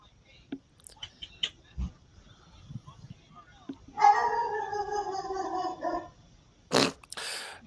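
A dog howls in one sustained, wavering note lasting about two seconds, set among scattered soft clicks and faint murmuring voices, with a brief burst of noise near the end.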